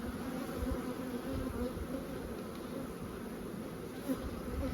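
Bees swarm around an opened beehive during queen-cell work, making a dense, steady buzz that holds throughout at a moderate, even level with no voices.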